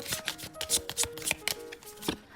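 Tarot cards are shuffled by hand in a quick, close burst of crisp riffles and slaps lasting a couple of seconds.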